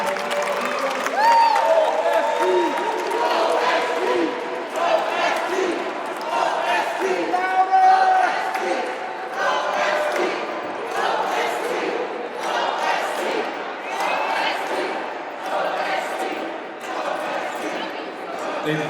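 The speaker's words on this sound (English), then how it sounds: "That deserves a round of applause." An audience at a press event in the Pennsylvania State Capitol applauds in a long, steady, dense round of clapping that fills the room.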